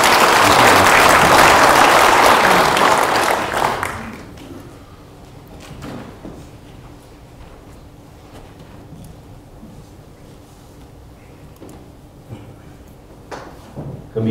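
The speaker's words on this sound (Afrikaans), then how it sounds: "Kom ons gee hande klap vir hierdie nuwe lidmaat." A church congregation applauds a new member during a service: loud, dense clapping for about four seconds, then it fades into a quiet hall with faint shuffles and small knocks.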